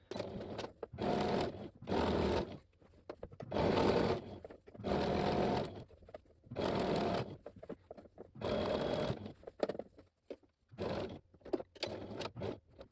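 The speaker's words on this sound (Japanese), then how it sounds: "この袖口のところを縫います" A sewing machine stitches the sleeve cuff of a kimono in about eight close, loud bursts of rapid whirring, separated by short pauses.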